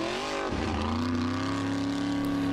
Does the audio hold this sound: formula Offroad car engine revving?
yes